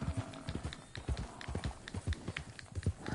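Horse hooves clip-clop steadily at a walking pace in Red Dead Redemption 2, a close, regular rhythm of soft thuds repeating throughout with no voices.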